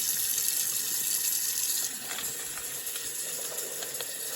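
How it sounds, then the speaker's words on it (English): Dirty water tipped out of a wet brass tumbler, a steady close splashing pour that eases slightly partway through, with faint metallic clinks near the end. "So I'll tip it up, keep my hand, and just try to get the bulk of the water and the nasty water out of it."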